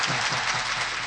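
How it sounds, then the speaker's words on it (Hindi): Audience at a mushaira poetry gathering clapping in dense, continuous applause, a broad even wash of many hands that stays steady throughout the brief moment. "आप कैसे अच्छे से तालियां बजाते हैं किसी शायर के"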